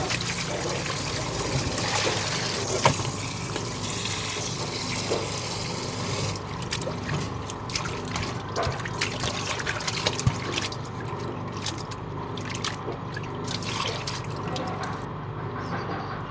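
Tap water runs steadily over half a kilo of raw pork belly being washed in a home kitchen, a continuous close trickle and splash with occasional clinks throughout.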